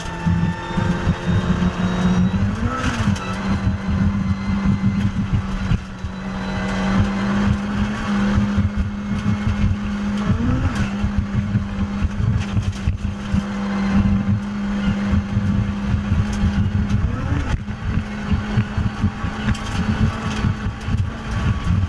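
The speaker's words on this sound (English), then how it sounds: "Here's some absolutely insane first person rally driving." A heavily modified Fiat 500 rally car roars from the driver's seat, its engine droning loudly and constantly with rising and falling revs at each gear change and corner.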